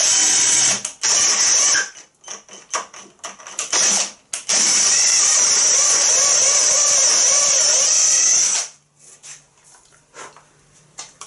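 A MEEC TOOLS 008199 cordless drill-driver spins a drill bit into material, giving a loud, steady high-pitched whir in bursts, with one long sustained run before stopping; no one speaks.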